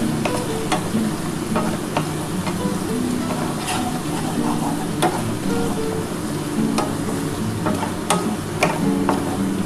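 Onions with salt and turmeric frying in a pan for a mung dal dish make a steady, close sizzle, with frequent light ticks and scrapes of stirring and no voices.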